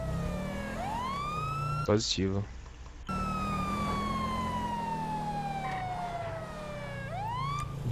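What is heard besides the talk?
police car siren in a video game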